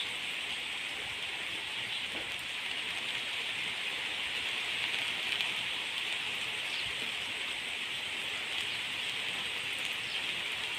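Steady, dense rain blown in by a strong easterly wind hisses evenly and continuously nearby, with no pauses and a constant wash of drops on surfaces.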